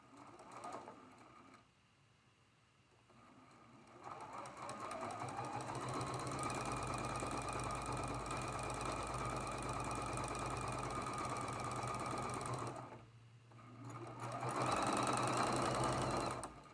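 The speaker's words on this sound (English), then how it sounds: "And we're going to sew that connecting seam right there" A sewing machine runs a quarter-inch connecting seam on a traditional Grandmother's Cross quilt block, its close mechanical whirring steady for several seconds, pausing briefly, then starting up again.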